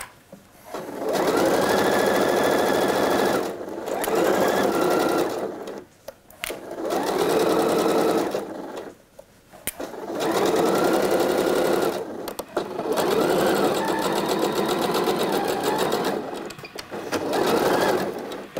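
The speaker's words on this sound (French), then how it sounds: "je vais du coup piquer tout simplement tout le long à 1 cm ici du bord" A domestic sewing machine stitches a coat seam in several steady runs of fast whirring, each lasting a few seconds and separated by short pauses, close and alone with no talk.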